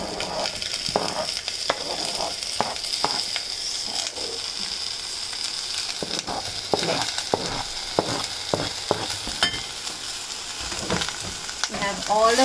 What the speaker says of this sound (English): We have all the vegetables in. Give it a quick stir.